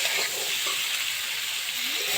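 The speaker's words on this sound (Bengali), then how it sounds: "টমেটোটা দিয়ে দেব, দিয়ে আলুটা ভেজে নেব।" Potatoes fry in a pan, sending up a close, steady sizzle with a constant hiss and faint stirring underneath.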